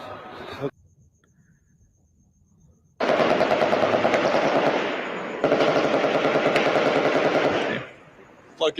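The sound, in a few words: machine gun firing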